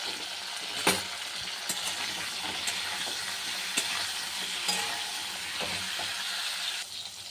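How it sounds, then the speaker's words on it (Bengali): Cauliflower fries in a pan with a steady bright sizzle, broken by several sharp scraping clicks as it is stirred, close and fairly loud with no talking. "একটু ভেজে নিই ফুলকপিটা ভালো করে একটু"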